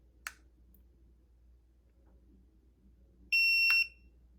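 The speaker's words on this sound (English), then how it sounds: "It beeps one time and the display comes on." A Tymate tire pressure monitor gives a single loud electronic beep lasting about half a second, preceded by a sharp button click in an otherwise quiet room; no talking.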